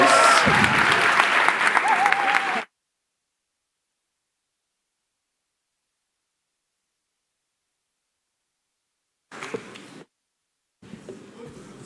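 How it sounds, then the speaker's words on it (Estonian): A school audience at Saue State Gymnasium's third birthday ceremony bursts into applause for about two and a half seconds, then falls abruptly silent, with only brief faint noises near the end. "Aplaus!"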